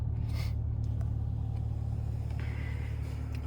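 A Volkswagen Arteon 280 hp 4Motion sits stationary at about 1100 rpm, its engine giving a steady, even low rumble with a faint constant hum throughout and no voices.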